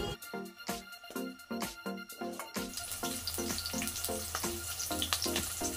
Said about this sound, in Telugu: స్టవ్ ఆన్ చేసి వెడల్పు ఉన్న గిన్నె పెట్టుకొని 3 చెంచాల నూనె వేసినాక ఉల్లిగడ్డ ముక్కలు బ్రౌన్ వచ్చే వరకు వేపుకోవాలి.